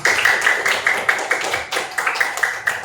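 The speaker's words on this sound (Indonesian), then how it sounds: "tepuk tangan buat kelompok 1" Loud, close applause from a classroom of students for a presenting group, many hands clapping in a quick, rough rhythm that swells and dips over a few seconds.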